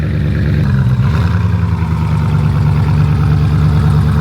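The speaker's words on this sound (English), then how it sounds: "Looks like the gorgeous Agera R just started up. That thing sounds mean at idle." A Koenigsegg Agera R idles loudly and steadily after starting up, a deep rumbling engine burble with a slight rise in pitch early on, close by.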